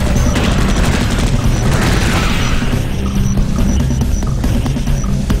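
Automated sentry guns firing in the sci-fi shooter Space Beast Terror Fright, a loud, dense, continuous barrage of rapid shots and booms filling the whole stretch without pause.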